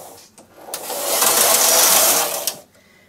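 A Singer knitting machine lace carriage slides across the needle bed while transferring stitches, giving one loud, continuous mechanical whir lasting about two seconds, close and unaccompanied by talk.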